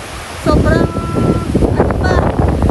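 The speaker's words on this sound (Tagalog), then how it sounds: "malakas pa ang alon" Strong sea waves and gusty wind buffet the microphone on a boat at sea. The roar is loud and constant, and a person talks over it throughout.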